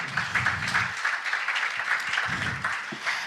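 Moderate applause from a conference audience, a steady patter of many hands clapping at mid distance, with faint low murmurs of voices coming and going underneath.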